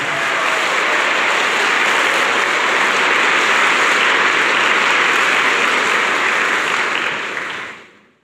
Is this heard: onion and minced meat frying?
no